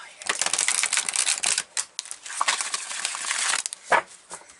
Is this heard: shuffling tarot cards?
yes